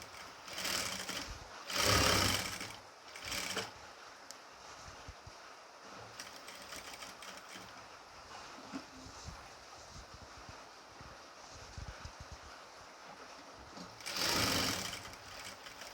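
A sewing machine stitches a nightie neck piece in short, close, buzzing bursts, several near the start and one more near the end, separated by quieter handling sounds.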